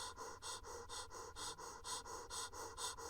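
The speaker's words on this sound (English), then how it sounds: "now you sound like you're hyperventilating" Deep, heavy breaths drawn right against a close microphone repeat in a steady rhythm of rapid in-and-out pulses, loud and breathy, with no talking.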